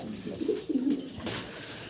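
Bombay pigeons at a pigeon shop coo in soft low murmuring calls, two or three close bursts over about two seconds with quiet room noise around them.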